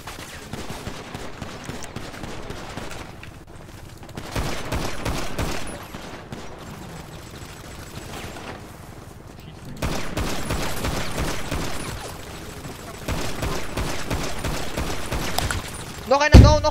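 Bursts of automatic gunfire crackle through a GTA roleplay shootout, several sustained volleys and scattered single shots over about seventeen seconds, loud and dense, with voices talking between and under the shooting.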